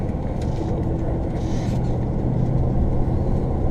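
A vehicle engine pulling uphill out of overdrive on a drive near Little Sand Bay, Wisconsin, giving a steady low rumble from inside the cab, constant and moderately loud for a few seconds.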